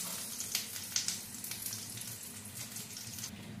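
Whole spices, including cardamom, bay leaves, cloves, cinnamon, black pepper and cumin, sizzle and crackle in hot oil for pulao, making a soft, continuous frying hiss with small pops and no speech.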